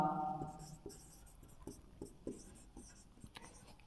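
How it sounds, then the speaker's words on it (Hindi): A teacher writes on a board during a physics lecture on the reflection of light, making a run of short, rhythmic chalk taps and strokes, close and fairly quiet, with a brief voice at the start. "तो चलिए हम लोग लिखते हैं"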